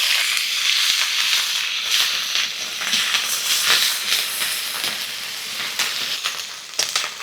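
A loud, hissing sizzle of onion paste hitting hot oil, steady and close, with occasional sharp pops and spatters.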